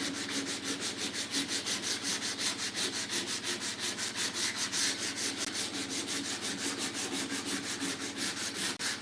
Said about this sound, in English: sanding really, really, really good because it's at that work time.